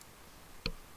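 A single sharp computer mouse click while working in Revit software, brief and close, standing alone against quiet room tone.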